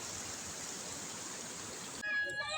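Shallow stream water flows steadily as a constant broadband rush near San Vicente, close and even for about two seconds before it cuts to quieter ambience.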